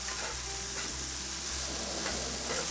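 Mashed potatoes with bologna sauce are stirred in a pot on the heat, a steady close sizzle and frying hiss with soft scraping strokes underneath.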